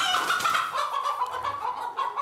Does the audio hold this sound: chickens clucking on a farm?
yes